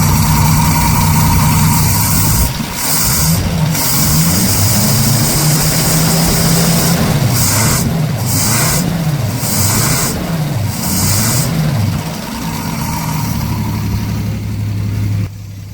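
A small engine fitted with a new $74 Amazon carburetor runs steadily and loudly from start to finish, its idle note wavering up and down in pitch partway through before settling again.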